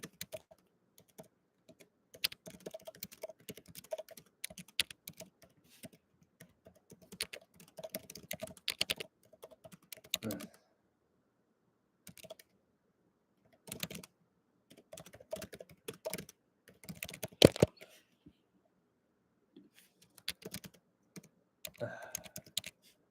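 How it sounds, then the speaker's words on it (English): Typing on a computer keyboard in irregular bursts of rapid, close clicking keystrokes, separated by short silent pauses, lasting over twenty seconds. "Let me just type something."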